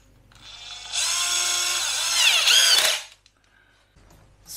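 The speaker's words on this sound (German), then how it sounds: "Bohren wir da ein Loch rein." Power drill boring a hole for a fan cable during a composting-toilet conversion: a brief whirring burst that lasts about two seconds, rises in pitch near the end and stops abruptly, followed by light handling noises.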